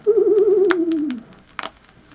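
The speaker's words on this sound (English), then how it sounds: "You will know it is time to turn the page when you hear the dove coo" A single dove coo, a soft warbling trilled call that slides downward and fades, close and clear, followed by a brief faint rustle.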